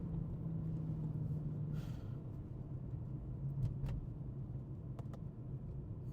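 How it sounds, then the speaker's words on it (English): Mercedes-Benz C63 AMG W204 V8 accelerating with its rear tires spinning on a cool, damp road, heard as a steady, moderately loud low engine rumble that runs through the whole clip with no talking. "as soon as I hit the throttle, it just lights up the rear tires"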